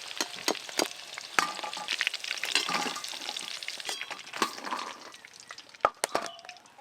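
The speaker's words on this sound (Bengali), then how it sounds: "চিকেনের পিসগুলো বেশ ভালো করে ভেজে নিয়েছি।" Chicken pieces frying in a pan for chilli chicken, a quiet steady sizzle of oil broken by sharp clinks and scrapes of a utensil against the pan.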